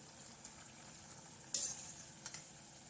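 Wheat flour bondas deep-frying in oil give a faint, steady sizzle, with a few soft clinks and scrapes as they are turned, and no one talking.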